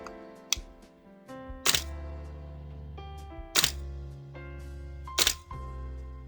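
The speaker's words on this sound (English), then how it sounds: "insert my Allen key in through the front and give it a couple twists one way or the other" An Allen key turns inside the nozzle of a VFC BCM GBBR airsoft rifle bolt carrier while an NPAS is fitted, giving four sharp, close clicks spaced a second or two apart over a steady tonal backing, with no talking.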